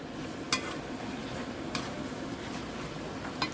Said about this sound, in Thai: เราจะผัดให้มันสุกนิดนึง